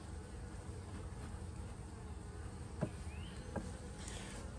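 Honeybees buzzing around a newly set up beehive, a faint steady hum of many wings with an occasional louder bee passing near.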